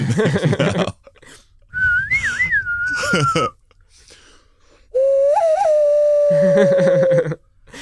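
A hand whistle imitating the Mandalorian theme, two sliding, breathy flute-like phrases blown between hands, with people talking before, between and after.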